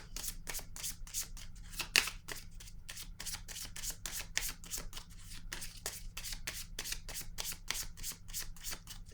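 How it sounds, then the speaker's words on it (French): Playing cards are shuffled and drawn close by, making a rapid, steady stream of crisp riffling snaps that continues without pause, with no talking. "Je vais piger une autre carte ici."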